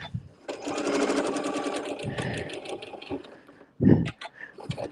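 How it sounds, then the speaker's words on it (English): A sewing machine stitches fabric for a quilt block, a rapid steady mechanical run of needle strokes for about two seconds, then a shorter burst and a brief clunk, close and clear. "instead of back stitching, I'm just going to turn it and overlap the stitching and cut that off"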